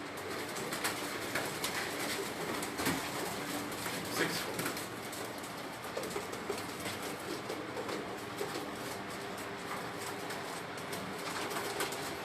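Breeder pigeons paired in rooftop loft boxes coo steadily in the background, a continuous soft murmur of many birds with occasional wing flaps and clicks, no talk over it.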